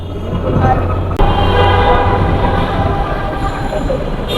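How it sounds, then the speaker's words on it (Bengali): Metro rail train at an elevated station, a steady heavy rumble of the rail transport heard from street level below, continuous and fairly loud with a sharp bang near the start. "চলে আসলাম মেট্রো রেল স্টেশনের নিচে"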